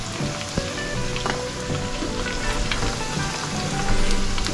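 Rice balls made from leftover cooked rice go into medium-hot oil, sizzling and frying steadily with a dense crackle and scattered pops that swell slightly louder toward the end; no one talks.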